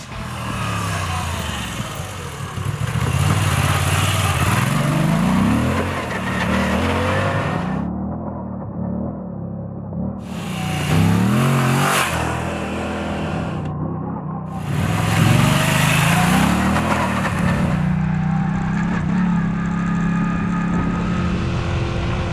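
A Moto Guzzi V85TT motorcycle ridden along a dirt trail near Pine Mountain Club, California, its engine close and loud, revving and easing in repeated surges with brief dips between pulls.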